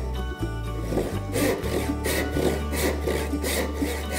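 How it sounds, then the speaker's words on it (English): A hand saw cuts through wood in steady back-and-forth strokes using the full length of the blade, a close, continuous rasping rhythm with no talking. "Sawing with confidence using my whole saw."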